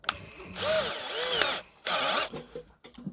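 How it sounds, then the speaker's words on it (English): An electric drill, used while hand-loading .45-70 Government rifle cartridges, whirs in two loud bursts, rising and falling in pitch, separated by a short pause and followed by light handling noises. "I use a drill."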